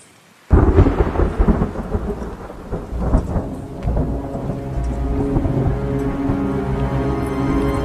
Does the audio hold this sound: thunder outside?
yes